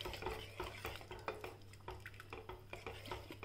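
A vegetable curry of peas and potatoes with garam masala is stirred in a pot, a spoon scraping and clinking against the metal in a quick, uneven rhythm, close and fairly loud over a steady low hum.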